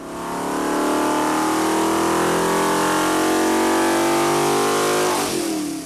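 A recycled 5.7L Hemi V8 with new heads and a bigger cam revs through a dyno pull, its loud engine note climbing steadily in pitch for several seconds before dropping off, with no voices.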